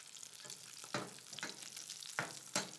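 Red mullet fillets fry in a hot pan, giving a steady broadband sizzle with a few louder crackling spits and pops recurring through the short stretch, close and alone without any talk.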